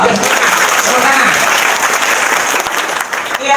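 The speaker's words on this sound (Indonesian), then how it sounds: "Tepuk tangan dong. Tepuk tangan." Audience applause fills a comedy-style talk show set, a dense, loud wash of clapping that runs steadily throughout and eases slightly near the end.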